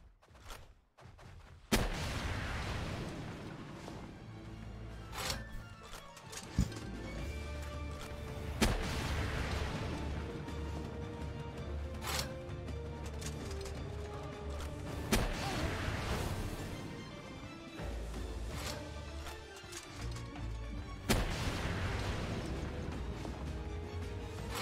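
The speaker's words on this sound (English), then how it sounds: "Again, standard rocket launcher, just showing that I have that in my hand." A standard rocket launcher fires in the video game Palworld, with several loud booming blasts spaced irregularly over continuous heavy battle rumble and crashes.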